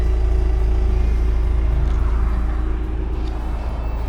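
A car crawls over a rough, rocky mountain road in Albania, its engine and tyres making a steady close rumble with constant low road noise throughout.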